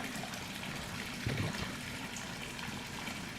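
An outdoor water fountain flows in a steady, soft trickling wash with a brief louder splash midway, heard at moderate distance without talk.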